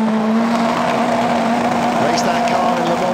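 Race car at Silverstone engaging first gear and readying to pull away, a steady engine drone with a strong low tone running throughout, loud and close, under crowd and track ambience.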